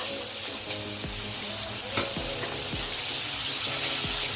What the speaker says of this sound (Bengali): এটাকে একটু নেড়ে নিয়ে পেঁয়াজ ফোড়ন দেবো